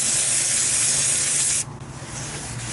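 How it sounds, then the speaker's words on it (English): Cleaner sprayed onto the inner drum surface of a rear brake rotor on an '04-'08 Ford F-150, a loud continuous aerosol hiss lasting about a second and a half before cutting off, leaving quieter background noise. "Do that spray down."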